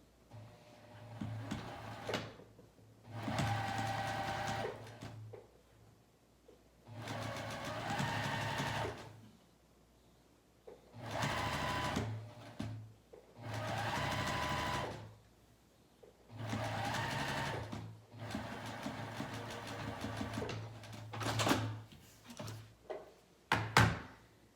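A serger sewing machine stitches a pajama pant seam in repeated runs of a few seconds each, a loud whirring buzz separated by quiet pauses, with no talking.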